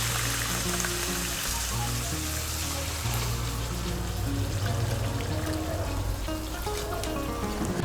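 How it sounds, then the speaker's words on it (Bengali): Hot water pours into a pot of rice, a continuous soft splashing and trickling that runs throughout at low level. "আমি এর মধ্যে 600 গ্রাম গরম জল দিচ্ছি।"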